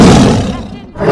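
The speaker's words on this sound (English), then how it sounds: "Tiger." A tiger gives a single loud, rough roar up close that fades out over about a second.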